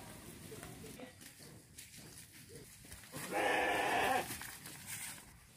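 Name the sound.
sheep bleating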